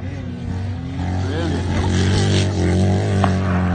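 Triumph-engined grasstrack sidecar outfit races round the Pickering track, its engine droning loud and steady with a rising pitch as it passes, while a commentator talks over it.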